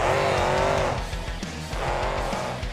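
BeamNG.drive monster truck at a fairgrounds freestyle competition turns around near the end of the track, its engine droning loudly and continuously while tires squeal and skid, with rising and falling revs throughout.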